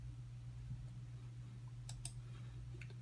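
Two quick, faint clicks sound close together over a low steady hum, like a computer mouse being pressed.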